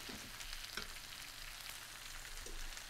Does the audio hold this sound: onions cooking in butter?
yes